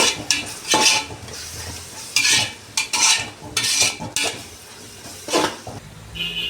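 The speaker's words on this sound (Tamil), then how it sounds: "பேஸ்ட் போட்டுமே நல்லா வதக்கிக்கிறோம்." A spoon scrapes and stirs a masala paste frying in a pan for biryani, with rhythmic metallic scraping over a steady sizzle. The sound is close and fairly loud, with no voices.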